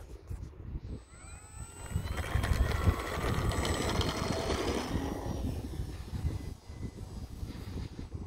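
An E-flite T-28 Trojan 1.1 m RC airplane on its maiden flight, its electric motor whining and rising in pitch as it passes overhead outdoors, swelling louder mid-clip and then fading as it flies off in the wind.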